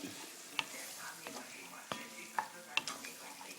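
Squid simmering in coconut milk in a pan over lowered heat, stirred with soft scraping strokes and a few sharp utensil clicks over a faint bubbling sizzle, close and quiet.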